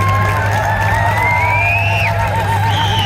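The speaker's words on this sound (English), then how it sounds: "Give him a round of applause, everybody." Crowd at a big-car demolition derby at a community fair, cheering and applauding steadily across the whole stretch, with whistle-like tones and a steady low hum beneath the noise.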